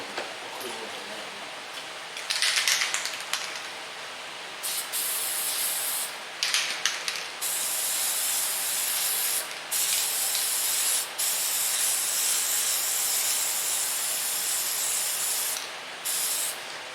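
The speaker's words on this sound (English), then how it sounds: "Spray it on. You let it get tacky, but you got to spray the other part that you're going to use that gasket on." Spray gasket adhesive hisses from an aerosol can onto a gasket during work on a big block Chevy engine, in several close bursts of varying length separated by short pauses.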